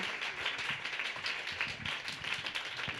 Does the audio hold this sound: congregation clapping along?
yes